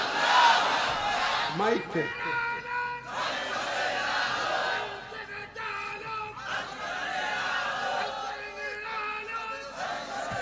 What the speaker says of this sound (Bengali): স্লোগান দাও তো দেখ